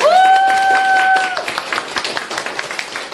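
An audience at a Korean lecture event claps to welcome a guest speaker, the steady applause dense and close, with a held tone at the start and a few separate claps trailing off toward the end.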